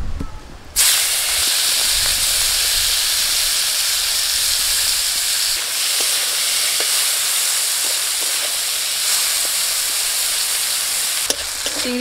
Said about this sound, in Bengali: এবার আমি মাছটা ভেজে নিচ্ছি ওই তেলের মধ্যে।